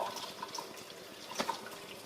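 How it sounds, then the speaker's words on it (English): Water runs steadily from a reverse osmosis faucet after the tank is opened, a soft continuous trickle and splash with a few brief drip-like accents, fairly quiet and alone. "once we open the tank, you'll see water starting to come from the faucet"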